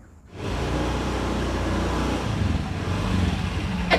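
A motorcycle pulls up nearby, its engine swelling from quiet into a steady, loud running drone that holds and rises slightly toward the end.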